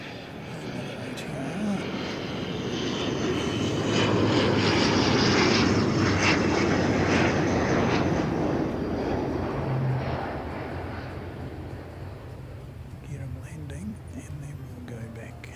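An airliner passing at Christchurch airport, a broad engine roar that swells to a peak midway and slowly fades, heard from the ground with people talking quietly under it.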